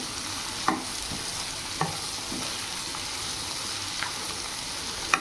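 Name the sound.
black-eyed peas (alasandalu) frying in a pan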